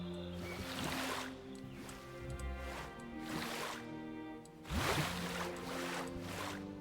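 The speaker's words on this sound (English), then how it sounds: "Oh, we got one waterfall." Waterfall in the dinosaur park game Jurassic World Evolution 3: soft, rushing water swells and fades in repeated surges beneath a steady musical backdrop, moderately quiet and without speech.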